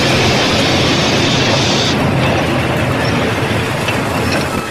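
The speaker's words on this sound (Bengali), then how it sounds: "রাত্রির দুটো ট্রেন আধ ঘন্টা লেট করে যখন স্টেশনে এসে পৌঁছল" A train pulling into a station at night as a sound effect: a loud, continuous rumbling clatter of wheels and mechanisms that eases slightly toward the end.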